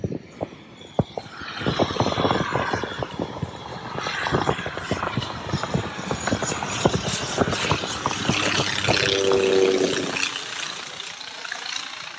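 Aircraft passing near a boat off Bimini, a broad rumbling roar building and holding for several seconds, moderately close, over wind buffeting and thumps, with no talk.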